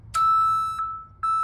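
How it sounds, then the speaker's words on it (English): A backup low-oil-pressure alarm in a 1980 Rounder L600 with a new engine sounds a loud, steady electronic beep that cuts off and then restarts, with a short chirp in between. "the alarm goes off"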